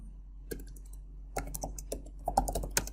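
Typing on a computer keyboard while writing program code, with quick irregular key clicks close to the mic that cluster into denser bursts toward the end and run without any talk.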